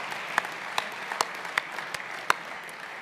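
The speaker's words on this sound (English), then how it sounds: "I didn't ask for applause" Audience at an awards banquet clapping in a room, sparse scattered claps with a few sharper individual hits over a low murmur, fairly faint and brief.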